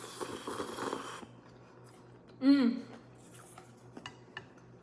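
A metal utensil scrapes melted cheese off the bottom of a pan in a home kitchen, giving one short squeaky scrape in the middle and a few faint clinks around it, quiet and close.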